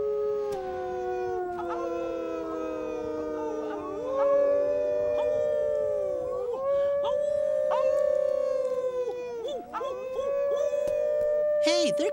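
Several voices imitate wolf howls, long rising and falling wails overlapping one another, loud and close.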